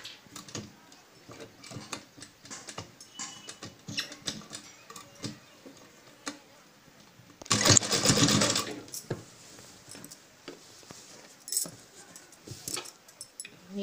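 A sewing machine stitches the sleeves of a dhoti-style dress in a short, loud burst of running near the middle, with quiet handling clicks and rustles of fabric and tools before and after.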